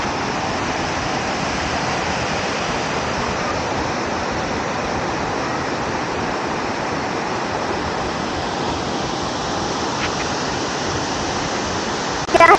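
Jogini waterfall near Vashisht, Manali, roars as a steady, loud wash of falling water heard from nearby, unbroken throughout with no voices.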